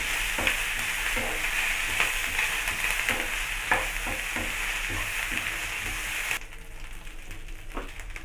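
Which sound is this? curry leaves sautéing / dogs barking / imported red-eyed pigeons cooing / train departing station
curry leaves sautéing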